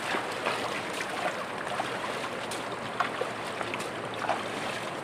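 Water splashes and trickles steadily over a horse named Jack as it is bathed outdoors on a rural farm, a constant wet wash with small intermittent splashes, no voices.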